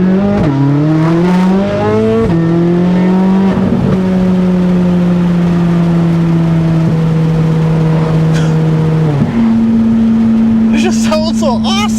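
A 2024 Corvette Z06 with a custom-built titanium exhaust drives close by, its engine rising and dropping through several gear changes, then holding a steady drone before a sharp step up in pitch near the end.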